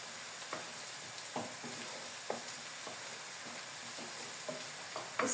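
Onion and garlic sautéing in a pan for a Turkish düğü soup with minced meat, a steady soft sizzle with light stirring scrapes and occasional clinks running throughout, close and fairly quiet.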